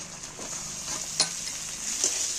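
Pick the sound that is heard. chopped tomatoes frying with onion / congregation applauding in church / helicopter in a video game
chopped tomatoes frying with onion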